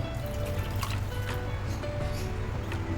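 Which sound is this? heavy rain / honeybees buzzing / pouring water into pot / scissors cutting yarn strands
pouring water into pot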